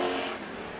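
Race cars roar across the line at Bakersfield Speedway, a loud, dense engine rush that starts full and eases slightly as it passes.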